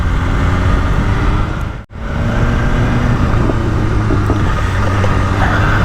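A 2022 BMW S1000RR in race mode on a dry road, engine droning loud and close with a steady roar, broken by one sharp momentary cutout before the drone resumes at an even pitch.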